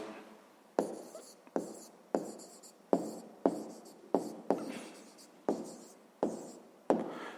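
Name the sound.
writing by hand while solving a math exercise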